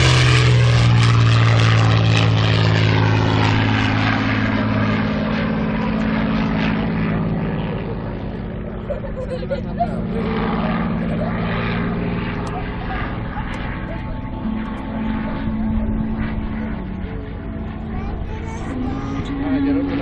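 A Supermarine Spitfire with a 1700-horsepower engine flies overhead at the 2012 airshow at Slávnica airfield, its loud propeller engine roar sustained and shifting in pitch as it passes, with no speech heard.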